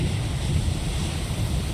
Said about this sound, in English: The strong wind felt as if it would blow me away.